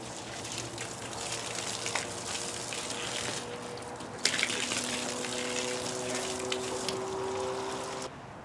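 Steady rush of running water from a garden hose watering plants, continuous and fairly close, with a brief louder spurt midway.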